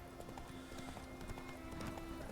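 Horse hooves clip-clop in a steady, quick rhythm in The Witcher 3, faint and continuous under a low hum of game sound.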